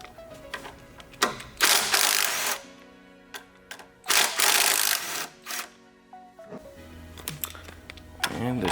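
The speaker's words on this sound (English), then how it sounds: "So each fork has two 10 mil pinch bolts. So go ahead and just loosen those up." A ratchet loosens the 10 mm fork pinch bolts on a Suzuki GSXR1000, giving close, loud bursts of rapid clicking separated by brief pauses and handling noises.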